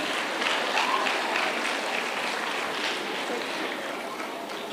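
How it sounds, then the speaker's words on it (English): An audience at a Girl Guides centenary and World Thinking Day celebration gives a steady round of applause for executive committee members, a broad wash of clapping that gradually thins toward the end. "Another round of applause for the executive committee members."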